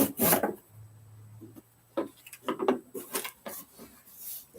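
Cardboard packing material on a cowboy boot shipping box being cut and trimmed: scraping, rasping bursts and rustles in short irregular strokes, close and moderately loud, with a faint steady hum underneath.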